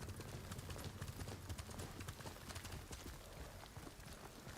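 A horse gallops in Ghost of Tsushima with rapid, steady hoofbeats over a busy, noisy game soundscape, and the hooves gradually ease off toward the end.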